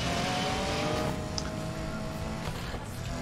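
A car engine in the racing video game Need for Speed Payback drones loudly and steadily, with a dense roar and slight shifts in pitch throughout.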